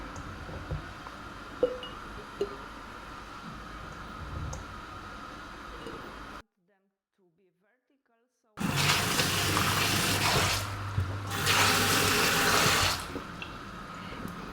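Tap water runs into a kitchen sink while gherkins are rinsed for salt-brine fermented pickles. Soft background noise gives way to a short pause, then a loud steady gush that swells twice.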